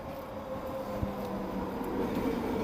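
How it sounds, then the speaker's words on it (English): A low, steady rumble of a train fills a station, with a faint hum and a few soft clanks in the background. "I've arrived at the train station, as you may or may not hear."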